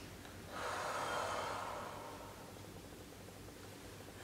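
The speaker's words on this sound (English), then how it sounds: "And take a deep breath." A single deep breath taken slowly during a calm EFT tapping session, a soft airy rush that swells and then fades gradually against quiet room noise.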